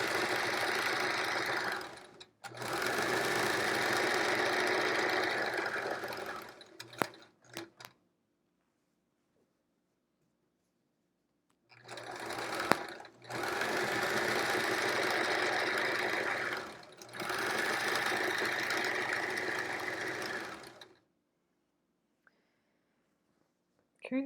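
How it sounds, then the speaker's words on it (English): A sewing machine stitches a quilt in two long steady runs of close, even mechanical whirring, separated by quiet pauses and a few clicks, with no talk over it. "this is the relaxing type of sewing"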